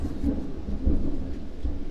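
Thunder in the Farming Simulator video game, a low continuous rumble with rain hiss underneath, fairly loud and sustained throughout.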